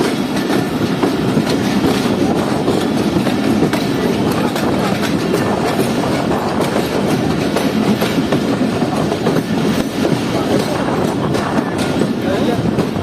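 The Jaffer Express passenger train, hauled by three locomotives toward Quetta, roars loudly and steadily with dense rumbling wheel and engine noise throughout.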